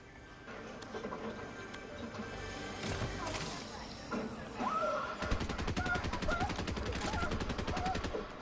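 Rapid bursts of video game gunfire crackle in a squad battle match, first scattered shots then a dense, steady machine-gun stream, moderately loud with a player talking over it.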